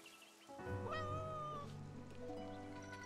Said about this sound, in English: Let's pet the cat one last time.